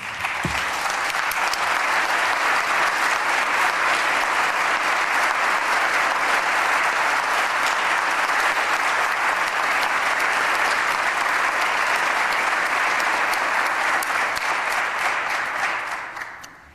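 An audience applauds to congratulate an award recipient honored for volunteer work. The clapping is loud, dense and continuous for about sixteen seconds, then fades out quickly at the end.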